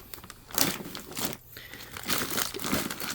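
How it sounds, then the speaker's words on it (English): Plastic crinkles and rustles loudly up close as frozen Australian greenlip abalone from Costco are packed into a gallon Ziploc bag, in irregular crumpling bursts with a brief pause. "We're just gonna Ziploc bag it. I got a gallon Ziploc bag."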